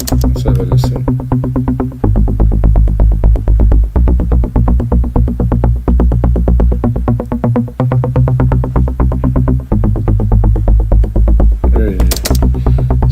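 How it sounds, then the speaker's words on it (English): A melodic techno track with a bright, pulsing synth riding a steady beat and deep sustained bass, loud and continuous with a brief dropout near the two-second mark. "Such a synth."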